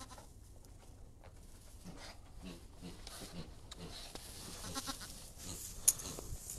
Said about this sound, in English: So I don't know if I'm saying goodnight to the goats or if they're saying goodnight to me.